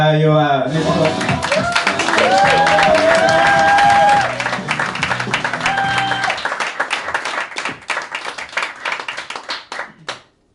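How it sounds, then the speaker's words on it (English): Comedy club audience at an Edinburgh Fringe 2024 stand-up show breaks into loud applause and cheering, the clapping thinning into scattered claps before fading out, with a voice speaking over the start. "Round of applause for Matt"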